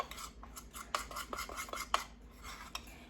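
Gel food colouring being stirred into cookie icing in a bowl, heard as a run of light metallic scrapes and clinks of a utensil against the bowl, close and fairly quiet, with no talking.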